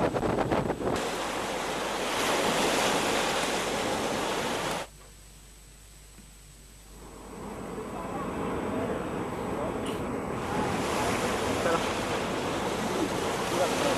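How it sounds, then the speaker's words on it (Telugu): Water pours from the open crest gates of Nagarjuna Sagar dam, seven or eight of them releasing downstream, in a loud, steady roar like heavy surf. The roar drops away briefly in the middle, then builds back to full strength. "ఇప్పటికే 7-8 గేట్లను తెరిచి నీటిని దిగువకు విడుదల చేస్తున్నారు"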